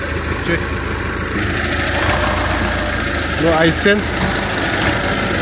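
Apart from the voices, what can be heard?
tractor engine idling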